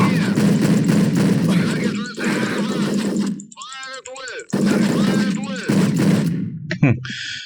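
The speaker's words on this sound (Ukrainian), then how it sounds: "Та чого ви по мені стріляєте?" Bursts of rapid gunfire in Hitman: Contracts crackle over and over, broken by brief pauses with other game effects, while a voice talks through the shooting.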